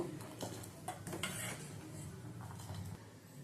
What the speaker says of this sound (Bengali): আমন্ড কুচি কাজু কুচি আর কিছুটা আখরোট কুচি সমস্ত কিছু দিয়ে দুধটা ভালো করে মিশিয়ে আরও কিছুক্ষণ ধরে জাল করে নেব